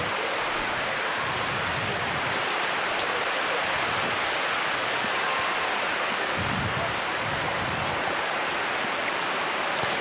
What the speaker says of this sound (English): This rain is not easing up at all.